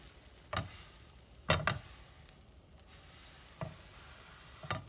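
Bread toast frying in butter in a pan gives a soft, steady sizzle, broken by a few sharp scraping knocks as the toast is moved around, with no talking.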